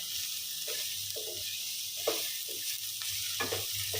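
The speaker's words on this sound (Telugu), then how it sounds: "చూసారు కదా ఎలా వేగుతుందో" Rice flakes upma base of onions sizzling and frying in a pan, a steady hiss broken by soft stirring scrapes at irregular intervals, close and moderately loud with no talking.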